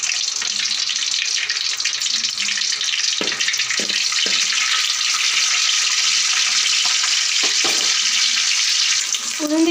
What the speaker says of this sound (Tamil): எண்ணெய் கொதிச்சு நான் உளுந்து போட்டிருக்கேன்.